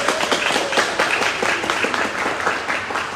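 An audience applauds steadily, a dense wash of many hands clapping at close range with no talking.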